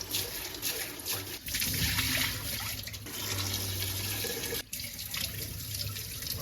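Sushi rice is washed gently by hand in a bowl of water, giving close, continuous sloshing and swishing with soft splashes and brief pauses.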